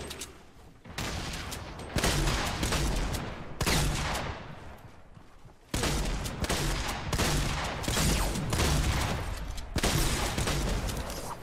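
Rapid Fortnite gunfire: dense, loud bursts of shots rattle almost continuously, broken by a couple of short pauses between volleys.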